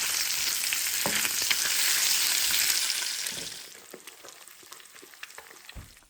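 Eggs and bacon frying in a pan for breakfast, a loud dense crackling sizzle that fades to quieter scattered pops and spits partway through, with no talking.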